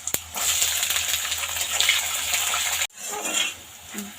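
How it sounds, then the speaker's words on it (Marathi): Peanuts fry in a pan of hot oil for a spicy corn chivda, giving a loud, steady sizzle that runs close up before cutting off abruptly and resuming more quietly. "आता पूर्ण तेलामध्ये आता आपले शेंगदाणे फ्राय होतात"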